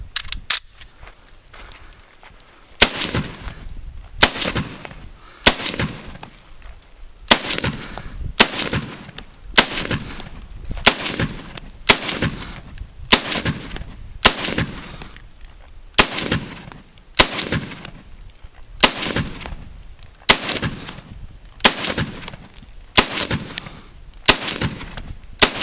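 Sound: Springfield M1A SOCOM .308 rifle gunshots

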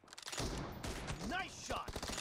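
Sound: gunshots in the video game PUBG Mobile

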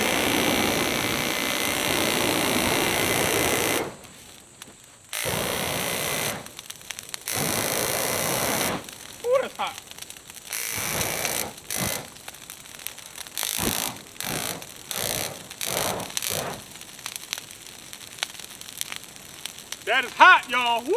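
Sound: flamethrower running after ignition

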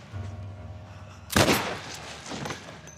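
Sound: gunfire in a video game

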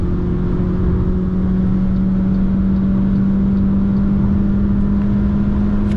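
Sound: MG HS 1.5 T-GDI car accelerating at full throttle

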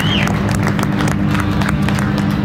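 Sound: audience applause at Barrett Jackson car auction

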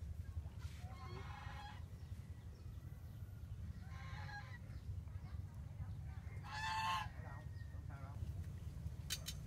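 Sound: geese honking near a fishing pond

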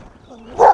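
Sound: pit bull dog barking

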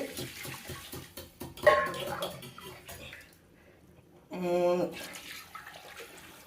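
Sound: pouring a second canful of water into a cooking pot

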